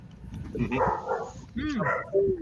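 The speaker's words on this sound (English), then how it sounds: "Oh, that's your puppy." A puppy barks and yips in short, high bursts with whimpering tones, close by, mixed with people talking.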